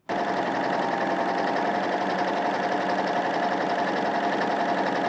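A three-needle sewing machine runs a chain stitch with a single needle, a close, steady, fast mechanical chatter that starts abruptly and continues evenly throughout without speech.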